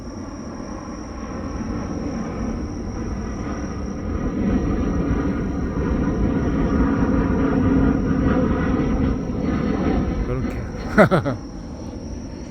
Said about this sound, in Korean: 비행기가 지나갑니다.